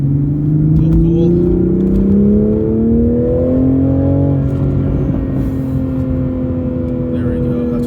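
A Toyota Supra pulls hard from a green light, heard from inside. The engine note climbs loudly and steadily through the revs, then settles into a sustained drone as speed holds.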